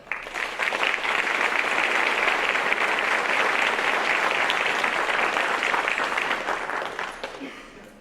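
A seated audience at a graduate hooding ceremony breaks into warm, sustained applause, a dense even patter of clapping that swells quickly, holds steady for several seconds, then tapers off near the end.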